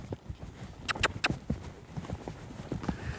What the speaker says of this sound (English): Let's ask him to lope.